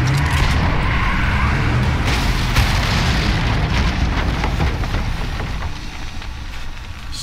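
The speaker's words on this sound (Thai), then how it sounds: "ปีนขึ้นมาปาระเบิดขวด" A Molotov cocktail bursts into flame in The Last of Us, a loud, dense roar of fire and blast that stays steady and close for the whole stretch without fading.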